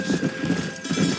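Horse hooves clip-clop at a steady walking rhythm in the Red Dead Redemption video game, with several distinct hoof beats close by over a continuous ambient bed and no talk.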